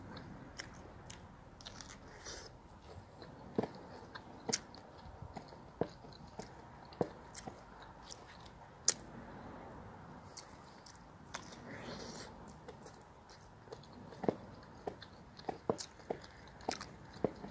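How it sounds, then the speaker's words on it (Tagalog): Freshly cooked, still-hot corn on the cob is bitten and chewed close up, with repeated sharp crunchy bites and softer chewing between them over a quiet background. "Unang kagat."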